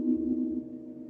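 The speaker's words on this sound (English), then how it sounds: "That is the sound of the mushroom through a MIDI sprout, converting the frequencies to sound." Bioelectric signals from a mushroom, converted to sound by a MIDI Sprout device, form a steady low droning tone that holds briefly and evenly, fairly faint, with no speech.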